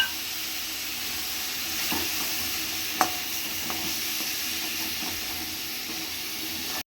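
Steady, close sizzling and frying from a hot pan as chili powder and salt are sautéed for sambar rice, with a few light scraping stirs and clinks over the continuous hiss.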